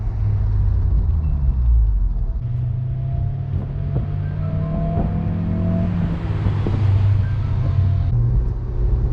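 Honda S2000 with an aftermarket intake, its engine droning steadily and close from inside the car, with a rising whine as revs climb midway before settling back.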